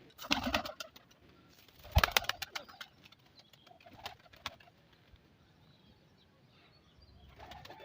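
Breeder pigeons in a loft, including Teddy and Royal Teddy types, coo and flap their wings, with loud bursts of flutter near the start and again around two seconds, then softer cooing and shuffling.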